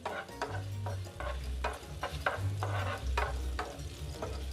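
Strips of ginger frying in oil in a pan, with a continuous close sizzle and a rhythmic series of stirring scrapes about twice a second, no voices.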